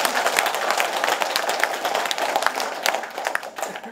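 Audience applause at a 2017 New Year tour meeting with the Gongju mayor in Jeongan-myeon, a steady, dense clapping that fills the room throughout without a break.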